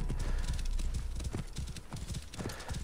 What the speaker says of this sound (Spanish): Aquí está el caballo